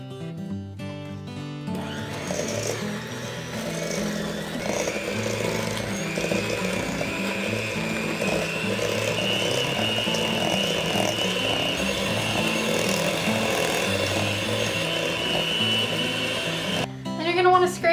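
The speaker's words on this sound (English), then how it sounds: "now we want to blend this on medium speed with your electric mixer" An electric mixer runs at medium speed through pecan cheesecake batter, a steady, continuous whir holding even for most of the stretch, with a brief clatter at the end.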